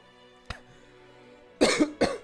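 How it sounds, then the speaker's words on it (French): A short click followed by a pause, then two harsh coughs in quick succession, close and fairly loud with no talking. "Ça me fait tousser putain."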